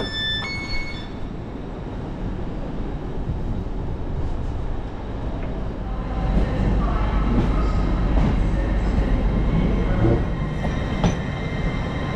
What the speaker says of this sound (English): There's a lot of trains coming into this station.